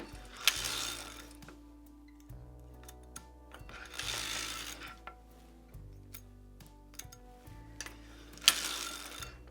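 A hand-cranked LT150 sock knitting machine clicks and ratchets under steady cranking. Rhythmic mechanical ticks and gear whirs are heard close up, with louder clattering bursts recurring every few seconds.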